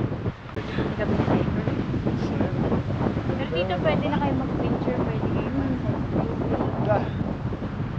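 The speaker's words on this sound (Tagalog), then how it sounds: "Lakas ng hangin." Strong wind roars and buffets the microphone throughout on a high mountain cliff in Atok, Benguet, a constant rushing blast while a person speaks underneath.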